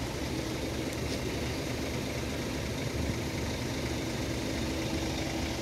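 A 2017 Scania K410EB Caetano Levante II triaxle coach, formerly in National Express service, idles with a steady low diesel rumble and hum, constant and close, with no talk.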